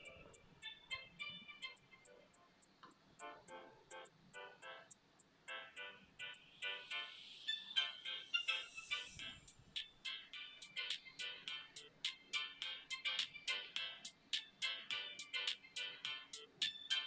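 A phone ringtone plays through Redmi Earbuds S wireless earphones, a bright repeating melody of tonal chirps and beeps that runs steadily and fairly loud for the whole stretch with no talking.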